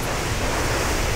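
Water splashes in Warcraft 3: The Frozen Throne as a steady, dense, continuous wash, fairly loud and alone with no voices.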